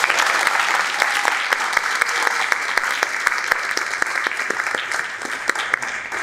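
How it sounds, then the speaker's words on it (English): Audience applause fills a hall at an annual showcase recital for young artists, a steady dense clapping held at even strength throughout without any talk over it. "Can we give ourselves all a big round of applause?"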